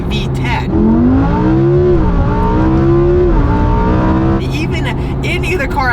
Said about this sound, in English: I'd like to buy a Lamborghini for its amazing V10.